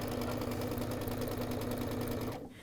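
A sewing machine stitches quilt blocks for a baby quilt, running as a steady, close, loud mechanical whir with a rapid needle rhythm before stopping abruptly near the end.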